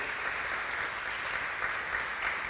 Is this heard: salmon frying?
no